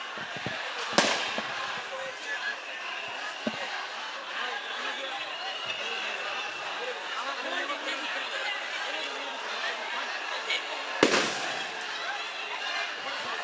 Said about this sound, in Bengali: পুলিশ ককটেল ফুটাচ্ছেন আপনারা দেখতে পাচ্ছেন এই মুহূর্তে